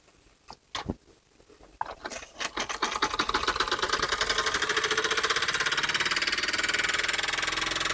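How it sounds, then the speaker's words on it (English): A Stirlingkit model steam engine starts up with a few irregular puffs, then settles into a fast, steady chuffing and clatter as its flywheel spins, loud and close with no talk. "spin our flywheel till we get the engine to run"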